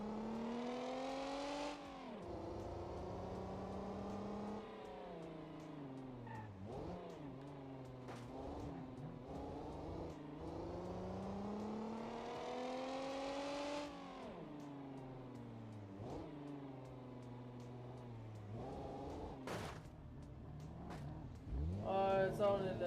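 A loud demolition derby car with a reinforced bumper and a big roll bar revs hard again and again, its engine pitch climbing in long sweeps, dropping back and surging repeatedly, close and prominent throughout.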